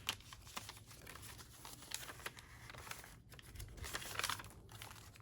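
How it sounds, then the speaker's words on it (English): Paper pages of a dragonfly meditation journal crinkle and rustle close up, with soft irregular rubbing and a few brighter crackles, steady and quiet with no talking. "Okay, there's just some more"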